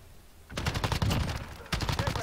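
An AUG rifle in Call of Duty: Modern Warfare fires two quick, close automatic bursts of rapid shots, separated by a short pause.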